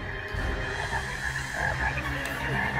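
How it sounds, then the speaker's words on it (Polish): A chorus of frogs croaks in a dramatized scene of the plague of frogs upon Egypt, dense overlapping croaks and throaty calls continuing steadily at moderate loudness. "Żaby."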